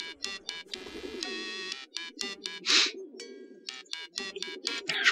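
Pigeons coo in the video game Hiveswap, with repeated soft throaty coos and a few brighter chirps in an uneven rhythm, heard close and alone without talk.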